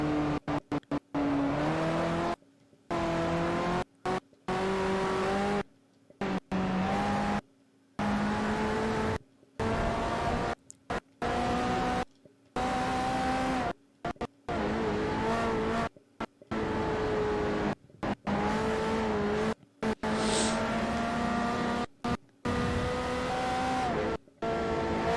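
Race car engine from Forza Motorsport 4, likely a 2009 Bugatti, revving and shifting through gears with rising and falling pitch, broken by repeated brief dropouts, occasional tire squeal, loud and steady with no talking.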